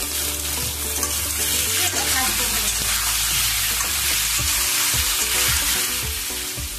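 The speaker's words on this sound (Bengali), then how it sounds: "পটলগুলো ভাজা হয়ে গেছে, এবার তুলে নেব" Pointed gourd (potol) pieces, lightly salted, fry in oil in a pan with a steady, dense sizzle and occasional stirring scrapes, heard close and continuous without speech.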